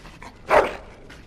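A dog in a medieval fantasy game lets out a single short, sharp bark with a whiny edge, close and brief amid quiet background murmur.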